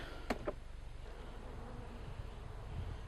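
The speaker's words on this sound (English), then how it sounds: "now we're gonna set the honey super aside and see what the hive bodies look like" Honey bees buzzing around an opened beehive with the honey super set aside, a soft continuous low drone close by, with a couple of brief clicks near the start and no talking.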